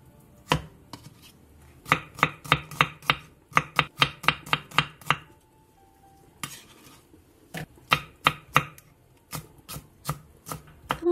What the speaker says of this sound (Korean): 무 3분의 1개를 2cm 정도 두께로 자른 뒤 다시 먹기 좋은 크기로 큼직하게